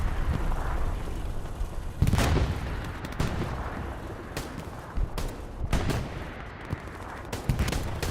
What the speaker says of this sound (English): Deathface trying to gun down the people in the OP